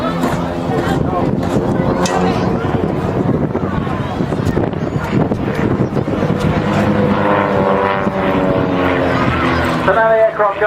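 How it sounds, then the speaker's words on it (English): An aircraft drones steadily throughout at an airshow as it pulls up into a stall turn, its engine tone shifting slightly, heard beneath an announcer speaking over it. "the aircraft going away from us on what is known as the V-axis, pulling up to stall turn"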